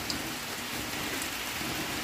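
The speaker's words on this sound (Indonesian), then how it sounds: "Jadi ini hujannya makin deras teman-teman" Heavy rain pours steadily onto a garden before dawn, a dense, even hiss of drops with no pauses, moderately loud and close.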